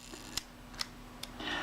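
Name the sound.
Kodak Retina Reflex S camera shutter firing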